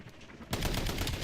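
Sniper and rapid gunfire crackle in a video game, a dense burst of shots kicking in abruptly halfway through after a quieter stretch, loud and continuous to the end.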